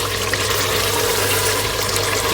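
Water poured into a cooking pot of chicken and potatoes with kasuri methi, half a litre added for a shorba; a steady, fairly loud pouring and splashing wash that continues throughout, with no talking.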